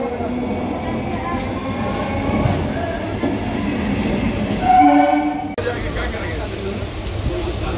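Kolkata local train on the Sealdah–Namkhana line running steadily, a loud continuous rumble of wheels and carriage noise with a brief squeal midway, heard from inside the coach.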